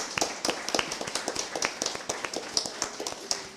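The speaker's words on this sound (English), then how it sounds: "Can we give Amisha and her team a round of applause" A small audience claps for Amisha and her team at an educational services event, with scattered, uneven hand claps that keep going at a moderate level.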